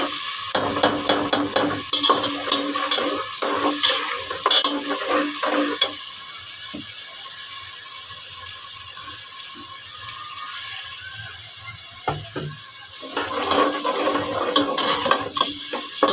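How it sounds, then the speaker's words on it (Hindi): Chopped tomatoes and spices stirred into a hot pan of oil for mongi dal, giving a steady close sizzle with scraping stir strokes throughout, briefly softer in the middle before the frying swells again. "ये टमाटर डाल रहे हैं"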